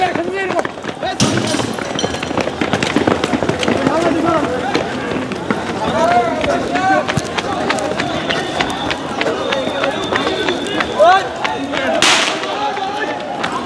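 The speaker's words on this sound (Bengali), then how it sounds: "দর্শক আবার কিন্তু একটি সাউন্ড গ্রেনেড নিক্ষেপ করলো" A sound grenade thrown by police while dispersing protesters near Dhanmondi 32 gives a sharp loud bang amid a chaotic outdoor crowd, with running feet, shouting voices and scattered cracks throughout.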